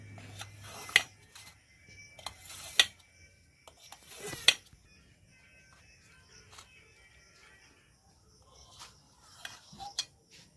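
A knife slices tender coconut pudding into thin strips, giving a few sharp, isolated taps and clicks of the blade against the dish, spaced a second or two apart, with quiet gaps and no talking.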